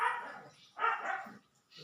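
A pet dog barks indoors in a home kitchen, giving a few quick, fairly faint yips and barks in a short burst with brief pauses between them.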